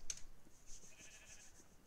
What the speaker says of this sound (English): There's a lot of lot of sheep and they're really loud.